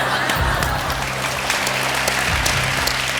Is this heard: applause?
yes